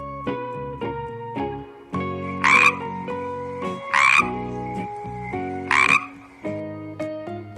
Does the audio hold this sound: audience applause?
no